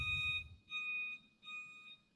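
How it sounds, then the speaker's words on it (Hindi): An office fire alarm rings in three steady electronic bursts with short gaps between them, a shrill tone that is moderately loud over faint low background rumble. "There is a fire alarm ringing in the office."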